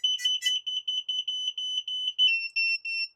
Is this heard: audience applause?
no